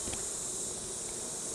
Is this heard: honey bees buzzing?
yes